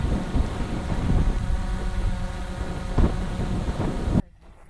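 Strong wind buffeting the microphone high on Mount Etna, a loud continuous roar with gusts that cuts off abruptly near the end.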